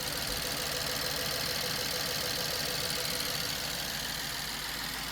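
A rebuilt BMW engine runs steadily at idle up close, a loud, even mechanical drone with a fast rhythmic knock throughout and no voices.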